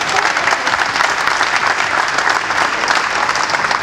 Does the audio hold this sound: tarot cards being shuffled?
no